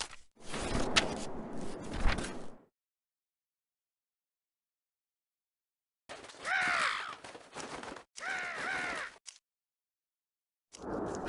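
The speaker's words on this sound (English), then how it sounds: "Three hungry crows frightened away means your garden is safe for another day." Three cartoon crows caw in a Winnie the Pooh math game, with harsh repeated calls bunched into two short bursts after a stretch of silence, plus a noisy burst at the start; no talking.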